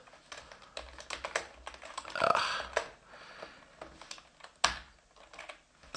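A computer keyboard clatters with quiet, irregular keystrokes while code is typed at a Linux command line, with a brief louder flurry partway through and one sharper tap later.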